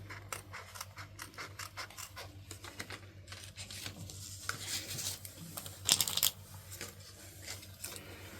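Scissors snip and cut during an unboxing of craft project supplies, a series of quiet crisp clicks and rustles, close and faint, with a louder scrape near the end and no talking.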